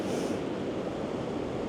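Sea swell pounds in steadily on a Northumberland shore during a cod fishing competition at low water, a continuous loud roar of surf with wind noise on the microphone and no break in the wash.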